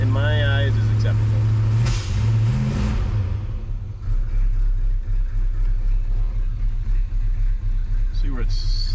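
The engine of a barn-find Dodge Charger Daytona, left abandoned for 32 years, idles as a steady low rumble with a brief rise in revs near the start. Someone talks over it.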